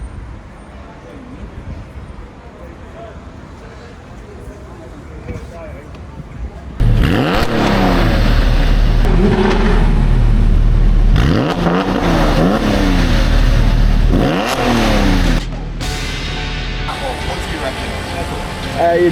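Porsche sports cars, including a Spyder RS, pull away outside the Porsche Museum. Loud engines rev and accelerate in repeated rising sweeps up close, with low rumbling throughout, and voices can be heard faintly before the cars start off.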